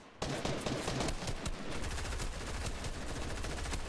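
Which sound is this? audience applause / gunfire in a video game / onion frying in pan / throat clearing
gunfire in a video game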